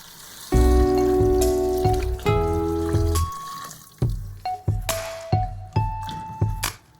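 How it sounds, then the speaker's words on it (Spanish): Mushroom broth pours into a bowl for vegan miso ramen, a steady liquid stream with a rising tone for a few seconds, followed by splashy drips and clinks. "Agregamos el caldo de los hongos sin el alga nori."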